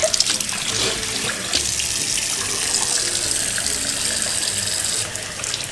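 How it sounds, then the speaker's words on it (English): Water runs steadily from a bathroom tap into a sink as a girl rinses her face, a continuous close splashing gush lasting several seconds with no talk. "she rinses her face with water okay"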